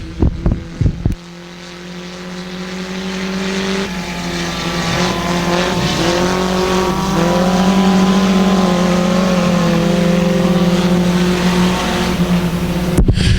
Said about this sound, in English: 3 laps of this heat race here for your IMCA Sport Compacts